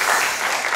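A congregation applauding during a Sunday church service, a brief stretch of steady clapping that fills the room evenly.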